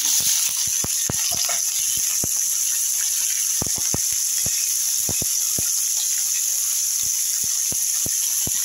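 Prawns fry in mustard oil with mustard seeds and blackened chilli, a steady sizzle with scattered sharp pops and spits throughout, close and continuous with no talk.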